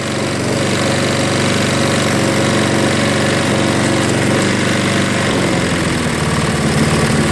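Craftsman self-propelled lawn mower with bagger running close and loud, a steady continuous engine drone with its speed being adjusted higher, alone without talk.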